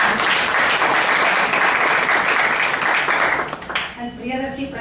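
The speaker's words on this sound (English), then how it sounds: "Can we have a big round of applause?" Loud, dense applause from an audience at a storytelling and evaluation session, sustained for over three seconds before thinning out as a voice begins speaking at the end.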